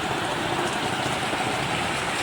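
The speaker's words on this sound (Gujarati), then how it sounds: "આમ જો વરસાદ આમ જો આવે છે એટલે ફૂલ વરસાદ આવે મિત્રો." Heavy unseasonal rain falling in a steady, dense hiss with no breaks, heard close and without any talk.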